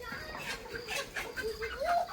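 Chickens cluck at a poultry farm, a scattering of short calls and one rising squawk over steady farmyard background, with faint talking underneath.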